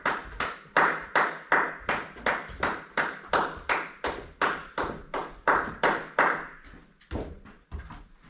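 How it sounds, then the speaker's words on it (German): Sharp single hand claps give the running signal at a kindergarten football game, sounding close and loud in a steady, even rhythm of about two to three per second, with nothing else over them. "Klatschen bedeutet laufen."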